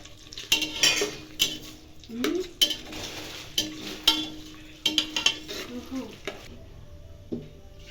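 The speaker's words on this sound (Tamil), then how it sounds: "மசாலா சேர்த்து எல்லாமே இப்போ கலந்துக்கணும்" Masala being stirred into mushroom biryani in a pot, with a spoon scraping and clinking against the metal in repeated strokes, close and fairly quiet with light sizzling underneath.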